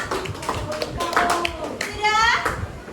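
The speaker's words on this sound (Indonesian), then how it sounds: "Tepuk tangan untuk kelompok selanjutnya." Scattered clapping from a primary classroom for the next presentation group, a few uneven hand claps mixed with children's voices and chatter close by.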